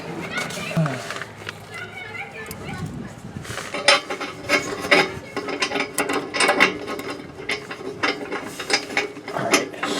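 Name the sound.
ratchet wrench fitting nut on RV tailpipe hanger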